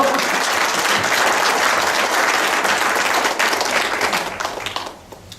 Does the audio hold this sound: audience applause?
yes